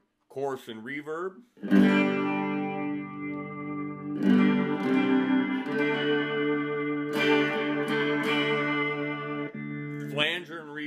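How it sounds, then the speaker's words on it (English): Electric guitar played through a Vox DA5 modeling amp with shimmering chorus and reverb, sustained chords ringing out with a lush, wavering wash and no one speaking. "Chorus and reverb."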